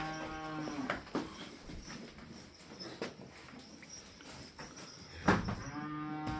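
A heifer moos loudly twice at a dairy farm, once near the start and again near the end, with quiet farmyard shuffling in between.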